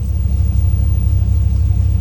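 An old Ford XA car's engine runs steadily at a loud, close idle while being warmed up and brought out onto a driveway, with a deep continuous rumble and no voices.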